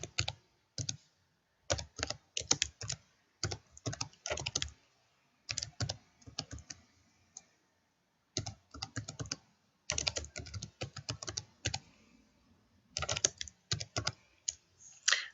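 A password is typed on a computer keyboard in quick bursts of crisp, close key clicks separated by short pauses, steady and alone with no voices.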